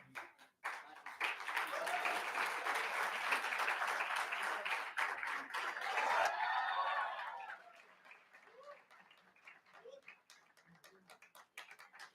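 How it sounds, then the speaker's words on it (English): An audience of teammates cheers and applauds at a fintech olympiad leaderboard reveal, a dense, fairly distant wash of clapping and cheers for about six seconds, then fading into scattered claps and murmurs. "Please cheer up for your teammates."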